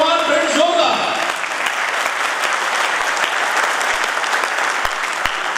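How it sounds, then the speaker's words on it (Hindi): Loud applause fills a seminar hall, a dense sustained clapping from a large crowd with some sharp individual claps, while a voice speaks over it at the start. "जोरदार तालियां अपने आप के लिए"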